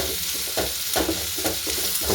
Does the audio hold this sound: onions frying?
yes